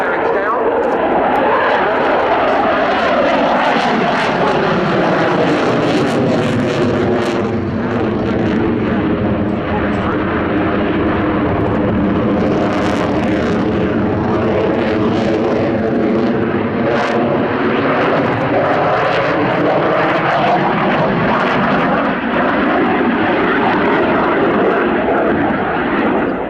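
A French Rafale delta-canard fighter jet with its undercarriage down makes a loud, sustained engine roar as it flies in toward the listener, the pitch sweeping through the pass, with commentary heard under the noise.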